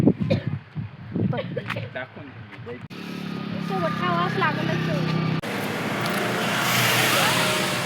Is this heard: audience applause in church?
no